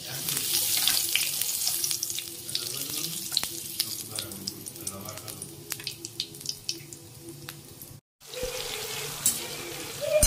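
Cumin seeds crackle in hot oil at the start of a chana dal and spinach dish, a steady hiss with scattered pops and small utensil clicks, broken by a brief silence near the end.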